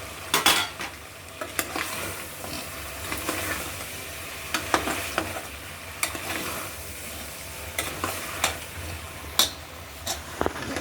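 Chopped tomatoes fry in hot oil in a pan for a spicy home-cooked curry, a steady soft sizzle under repeated sharp scrapes and taps of a spoon stirring against the metal, close and clear with no talk.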